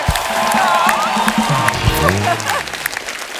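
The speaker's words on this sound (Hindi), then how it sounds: "तालियां जोरदार होनी चाहिए" Loud studio audience applause and cheering on a televised Hindi comedy show as guests are welcomed, a dense steady roar of clapping with whoops layered under some talk.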